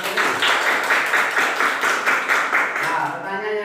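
Brief burst of classroom applause for a student's answer, a short patter of many hands clapping together for a few seconds, fairly loud and close before fading.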